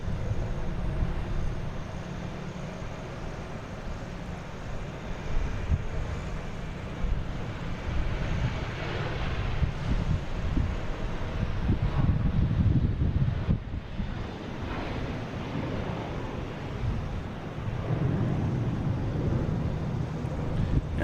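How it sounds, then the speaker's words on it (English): A JetBlue Airbus A321 takes off from Boston Logan, heard as a broad, rising and falling jet roar mixed with gusty wind buffeting the microphone, fairly loud and continuous with no talking. "taking off, we have a JetBlue heading to San Francisco, an A321"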